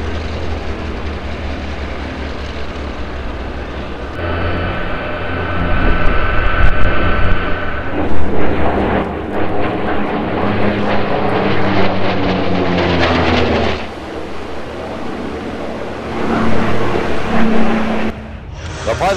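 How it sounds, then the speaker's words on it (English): Corsair F4U-5NL, a restored Korean War propeller warplane, flying a display at an air show, its piston engine droning loud and close, swelling and fading as it passes, with a voice over the public address. "Dan McHugh flying in a Corsair F4U 5NL owned by the Collings Foundation in Stowe, Massachusetts."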